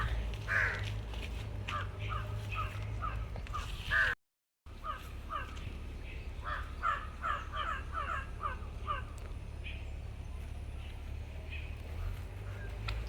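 A crow caws repeatedly in short, harsh bursts, fairly close, against a low steady background hum.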